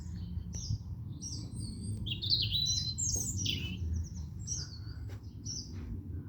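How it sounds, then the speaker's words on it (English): Birds chirp and trill from a tree branch in the morning countryside, a busy chorus of overlapping calls above a steady low rumble of background noise. "I'll hear a lot of sound in that tree branch."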